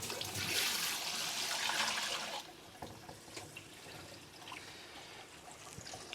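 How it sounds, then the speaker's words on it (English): Fluid from a water heater canister on a Leisure Travel Van's Truma AquaGo Comfort Plus is poured down a sink, a loud close rush of splashing water that stops after about two seconds and leaves a quieter trickle and drip. "you can just dump this down the sink"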